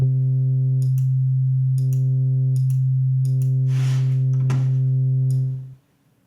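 A steady, loud, low buzzing saturated sine wave tone rich in overtones holds for several seconds, with faint clicks on top, then fades out quickly.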